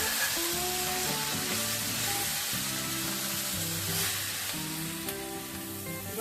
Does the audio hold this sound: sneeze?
no